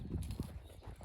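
Horse hooves clip-clopping on the ground as the horse is walked around to move its front quarters over, several close, soft steps in an irregular rhythm with no talking.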